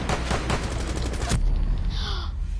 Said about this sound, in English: I accidentally just shot